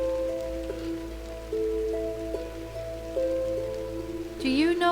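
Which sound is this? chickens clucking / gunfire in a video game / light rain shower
light rain shower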